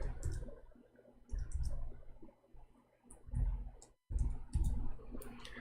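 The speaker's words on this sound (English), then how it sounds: "Oh boy, I'm typing in English again." Quiet computer keyboard typing up close, irregular bursts of rapid key clicks separated by brief pauses.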